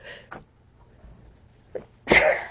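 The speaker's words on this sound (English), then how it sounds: "I don't know why I'm sneezing." A sneeze bursts out loudly near the end after a couple of smaller sniffs or breaths, close to the mic in a quiet indoor room.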